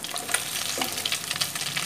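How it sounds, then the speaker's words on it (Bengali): Boirali fish frying in hot oil in a pan, a steady close crackling sizzle with brief spatters and pops throughout, no voices. "মাছের এক পাশটা ভাজা হয়ে গেছে, আরেক পাশটা উল্টে ভেজে নিতে হবে"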